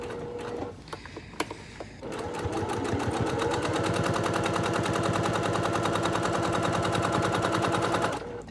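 A sewing machine stitches the flap of a cross body bag, running fast and steady for about six seconds after a few short starts and stops, close and loud.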